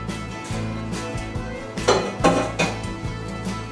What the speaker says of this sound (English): Take them off and put them in a bowl.